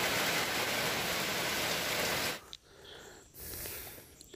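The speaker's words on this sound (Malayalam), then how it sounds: "കാരണം എന്ന് വെച്ചാൽ മഴയുണ്ട്" Steady outdoor rain falls during a Kerala fish curry cooking session as a dense, loud hiss for about two seconds. It then drops away to a quieter, uneven wash.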